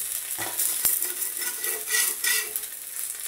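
Dosa batter on a hot griddle gives a steady soft sizzle with light scraping and a sharp tap of a utensil, close and alone.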